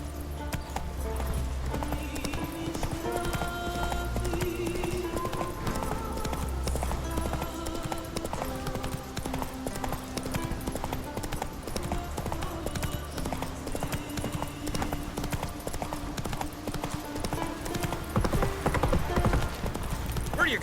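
Roach, the horse in The Witcher 3, gallops with a steady rhythmic clip-clop of hooves running for a long stretch, mixed with game music and occasional voices talking over it.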